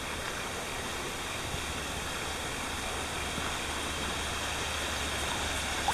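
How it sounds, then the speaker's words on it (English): A small waterfall along a Blue Mountains bushwalk gives off a steady, unbroken rush of splashing water that stays even and close for the whole stretch, with no voices over it. "That mini waterfall back there is so freaking cute."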